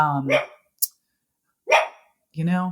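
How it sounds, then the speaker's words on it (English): A dog barks several times in short bursts, close and fairly loud, in a room during a podcast recording; a brief sharp click sits between the barks. "now the dog's making noise"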